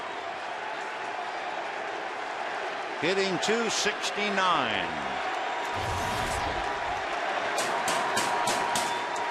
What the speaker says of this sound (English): Crowd on its feet, exhorting Ramirez.